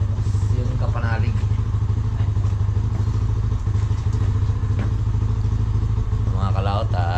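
A motorcycle engine idles steadily while warming up, a low continuous rumble with occasional clatter and thuds, loud and close throughout.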